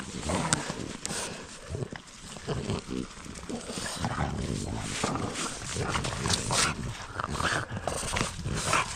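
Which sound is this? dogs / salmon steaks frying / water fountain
dogs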